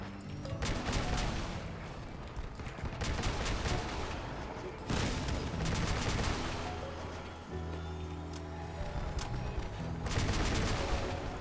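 Bots firing on a player's vehicle in Crossout on the Clean Island map produce dense, continuous gunfire with repeated bursts and heavier booms. The shooting goes on throughout without any talk.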